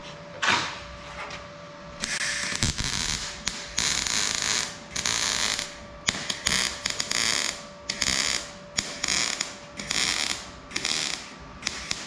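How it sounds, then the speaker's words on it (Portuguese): MIG welder welding on a Fiat Tempra car body during rust repair: loud, crackling buzzing bursts of a few seconds each, separated by short pauses, close and alone, with a faint steady tone underneath. "Vamos soldar agora aqui."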